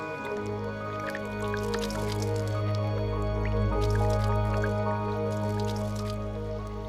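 Water is poured onto the broad leaves of a taro plant, with steady dripping and trickling over a continuous low hum and no talking.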